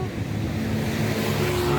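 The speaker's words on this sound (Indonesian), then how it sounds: "cuman lebih kencang lagi suara knalpot kendaraan" Loud, steady roar of vehicle exhaust from traffic on the Mahakam Bridge, heard from the river below as a constant dense rumble without pauses.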